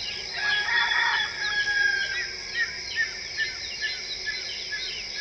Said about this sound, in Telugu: కోడి కూతలతో, పక్షుల కిలకిల రాగాలతోటి స్టార్ట్ అవుతున్న డే